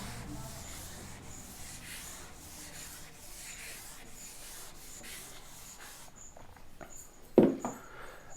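Writing rubbed off a board during a maths lesson, a continuous scratchy swishing in repeated strokes that stops near the end, followed by a single sharp knock.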